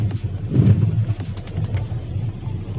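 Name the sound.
road traffic jam after railway gate opens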